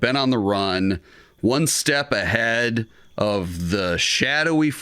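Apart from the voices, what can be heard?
No everyday noise stands out behind the speech.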